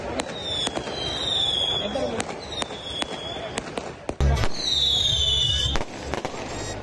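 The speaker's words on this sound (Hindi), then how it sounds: "जीत की खुशी में आतिशबाजी का मुजाहरा किया गया" Fireworks and firecrackers go off at an election victory celebration in Kasur, Punjab, Pakistan, popping in sharp repeated bursts with whistling rockets, some near and loud, over a steady background hum.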